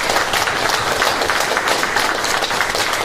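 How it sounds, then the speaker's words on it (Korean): A church congregation at a Sunday worship service gives a sustained round of applause, lively and fairly close, with some claps standing out from the broad wash of hands. "이때는 하나님께 영광의 박수 한번 드려야 되겠습니까?"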